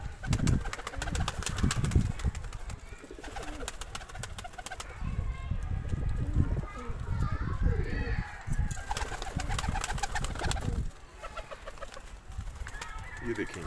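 Breeding pigeons peck at grain and chickpea lentils scattered on the ground, with soft cooing and clucking throughout and faint background voices.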